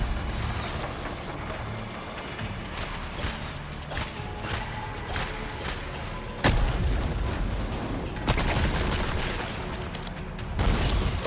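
Gunshots and booming impacts from a heavy-recoil gun in Resident Evil 4 Separate Ways, a dense loud game mix with several sharp blasts landing over a constant rumbling background.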